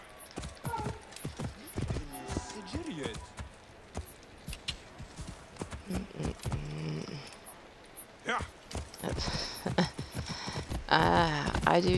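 Horse hooves clip-clopping in Assassin's Creed Origins, an intermittent rhythmic trot heard under frequent speech and game sounds.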